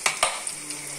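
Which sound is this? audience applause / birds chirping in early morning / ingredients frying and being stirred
ingredients frying and being stirred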